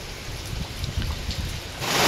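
Heavy rain pouring onto a house roof as a typhoon approaches, a dense, close, rushing patter with scattered louder drops that swells toward the end.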